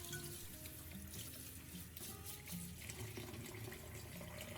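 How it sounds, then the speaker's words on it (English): Tap water runs into a kitchen sink over broccoli being rinsed, a quiet continuous splashing stream with faint shifting gurgles and no voices. "place the broccoli into the sink and rinse it thoroughly under running water"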